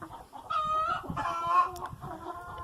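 A black Silkie chicken clucking nearby, two short bursts of nasal, tonal clucks with a soft scratchy backyard ambience around them.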